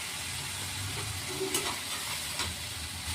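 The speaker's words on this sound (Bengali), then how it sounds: "এবার আমি এটাকে ভালো করে কষাবো।" Spices with turmeric and red chilli sizzle while frying, a steady, moderately quiet hiss with a few brief stirring scrapes and ticks.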